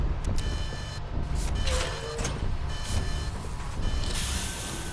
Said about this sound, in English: The alarm's going off, so we put a new battery in.